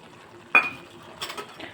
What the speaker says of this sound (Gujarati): આપણે બધા જ બેઝિક મસાલાને મિક્સ કરી લઈશું